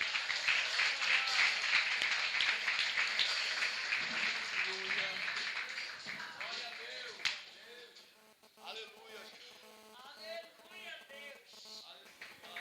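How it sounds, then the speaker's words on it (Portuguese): A congregation applauds Jesus at an evening pre-inauguration church service in Barcarena, a lively burst of clapping that fades out after several seconds before a voice begins speaking. "Quantos podem aplaudir nosso Jesus nessa noite?"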